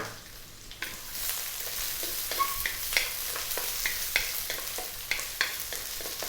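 Onions sauté in a pot for clam tinola, sizzling steadily up close, broken by repeated sharp clinks and scrapes of a spatula stirring.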